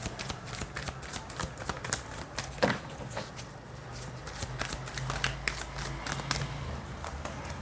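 Tarot cards are shuffled and drawn by hand, a rapid run of crisp riffling flicks and soft taps with a brief louder slap partway through, close up and without talk.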